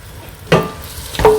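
Onions and garlic cooking in butter in a pan, a soft steady sizzle with two brief scraping stirs close by.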